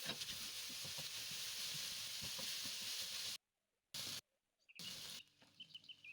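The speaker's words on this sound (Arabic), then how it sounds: "درنا عليها الزيت وخليوها تقلى مزيان" Onion with green and red peppers fries in oil, giving a steady close hiss and crackle for about three seconds before cutting off abruptly, followed by brief bursts and faint scattered sounds.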